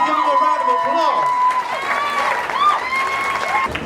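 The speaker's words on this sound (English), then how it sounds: "Please give him a round of applause." Wedding guests on a reception dance floor applauding and cheering, a steady wash of clapping carried under music and voices in a busy room.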